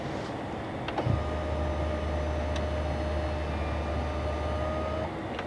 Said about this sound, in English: So we're gonna go ahead and pull the steering wheel out as much as we can.